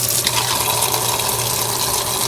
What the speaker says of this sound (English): I'm gonna also fill it up with some lukewarm water.